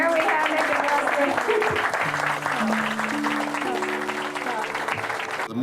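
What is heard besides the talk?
audience applauding crew members of SS United States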